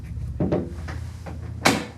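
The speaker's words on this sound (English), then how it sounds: "Close the door." A door being closed indoors, with a series of soft thumps and rattles followed by one sharper latch-like knock near the end.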